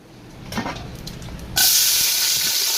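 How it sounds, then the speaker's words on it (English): Green chili dropped into hot bleached palm oil, a brief soft rustle followed by a sudden loud, steady sizzling hiss that carries on close by. "I have some chili too, some green chili. Guys, to my bleached oil, I'm going to add this."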